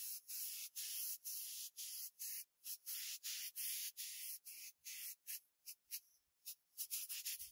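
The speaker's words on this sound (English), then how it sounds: "Connect your air supply, get your PP ready to go, and you're ready to spray." Barricade DIY truck bedliner is sprayed from an air-powered spray gun in a rapid series of short hissing bursts with brief gaps, close and fairly loud, the bursts growing shorter and choppier toward the end.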